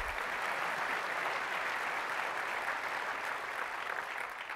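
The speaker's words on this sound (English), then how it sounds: "You can clap, it's okay." A keynote audience at Apple's WWDC 2008 developer conference in San Francisco breaks into applause, a steady, even wash of many hands clapping that holds for several seconds at fairly low level, with no talk over it.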